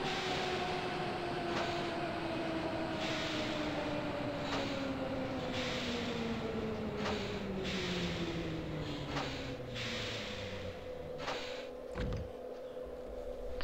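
A Berlin U2 subway train in Microsoft Train Simulator runs steadily with a rising and falling electric motor whine over constant rolling rumble, plus periodic rail clicks and a brief clank near the end.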